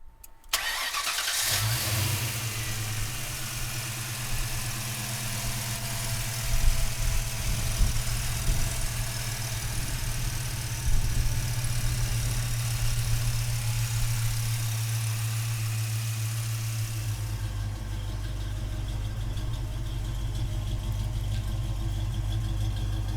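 A black 1995 Ford Mustang Cobra cranks briefly and fires up, then settles into a steady, loud, close idle with a deep rumble that holds for about twenty seconds, shifting to a lower, heavier tone near the end.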